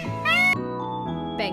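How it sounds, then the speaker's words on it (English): A peacock gives a loud, wailing, cat-like call, one sharp burst and a shorter one at the end, over a steady background music bed. "peacock"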